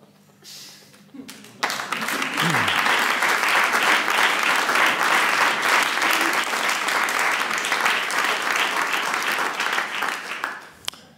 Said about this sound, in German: Also, bitte einen großen Applaus. Sie haben sich diesen Applaus verdient.